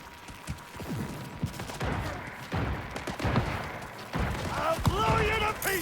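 Gunfire in the Cyberpunk 2077 video game crackles in a rapid, mid-distance fusillade of shots and thuds, mixed with voices talking over it.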